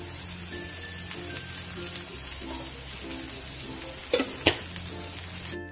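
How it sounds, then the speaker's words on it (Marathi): Chopped onion fries in a little oil for a Maharashtrian Gudi Padwa thali, a steady close crackling sizzle with soft stirring scrapes and a couple of sharper clinks near the end, no voices. "आधी कांदा आपण आधी छान परतूया। आपण कांदा भाजण्यासाठी थोडंसं तेल टाकू।"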